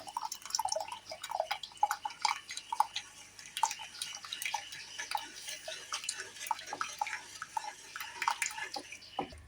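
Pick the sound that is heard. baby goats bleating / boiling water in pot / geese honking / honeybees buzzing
boiling water in pot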